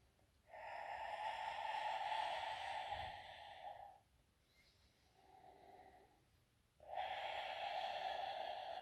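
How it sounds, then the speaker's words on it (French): Slow, deliberate breaths during a Pilates exercise: a long airy inhale or exhale, a softer quieter breath, then another strong breath, all close and without speech. "on inspire, on tient son centre et on souffle"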